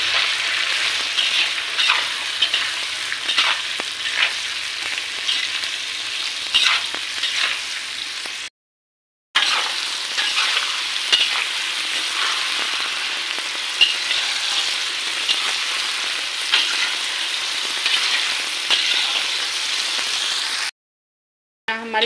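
Tinda gourd and onions with ginger, garlic and salt cook in a pan, giving a constant, fairly loud frying hiss that cuts out briefly twice.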